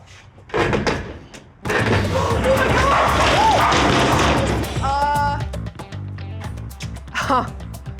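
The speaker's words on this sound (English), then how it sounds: "tried to open the garage, broke it" A residential garage door breaks while being opened, with a loud crash and clatter and a sustained rattling, scraping din that fades to quieter knocks and creaks. People speak and react around it.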